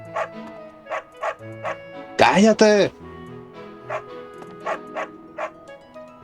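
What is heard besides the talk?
dog barking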